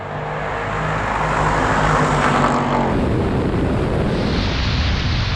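Supercharged SUVs in a drag race, among them a Defender V8, Jeep Wrangler 392, AMG G63 and X7 M50, roar hard as they launch, a loud, dense engine wall building and holding with wind buffeting the microphone.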